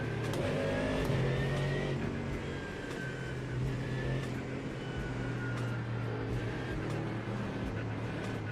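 A GT3 race car at Sebring in iRacing drives with a loud, steady engine roar that rises and falls as the throttle is pumped through oversteer, with no one speaking.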